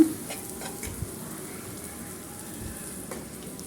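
Paneer and baby corn stir-frying with Maggi masala in a pan, giving a steady close sizzle with a few soft scrapes of stirring, no voices.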